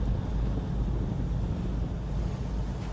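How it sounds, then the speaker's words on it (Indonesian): Strong wind and rough waves on the open Java Sea batter a boat, a loud, continuous roar of rushing air and surging water with buffeting microphone rumble and no voices. "Ombak sama angin mulai lagi nih guys."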